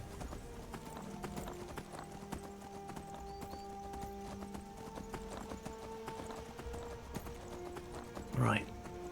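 Horse hooves clip-clop in a steady galloping rhythm in Skyrim, moderately close and continuous, with a brief louder burst near the end.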